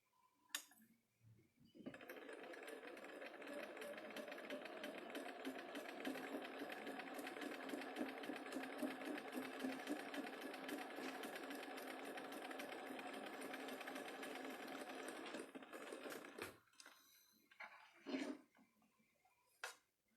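Sewing machine stitching fabric in one long, even run of rapid needle clatter lasting about fourteen seconds, close and steady, followed by a few small clicks and handling noises.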